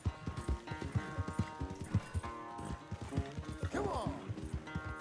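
Horse hooves clip-clopping in a steady trotting rhythm in Red Dead Redemption 2, close and distinct, with a brief whinny near the end.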